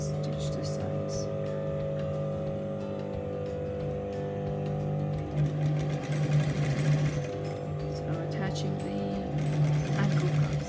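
Sewing machine stitches the side seams of Afghani trousers in a steady whirring hum that keeps going under a person talking throughout.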